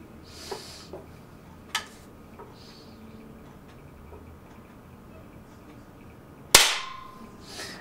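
Air Arms FTP 900 .177 PCP air rifle fired at a can, a single sharp, loud crack late in the clip after a few faint ticks and clicks.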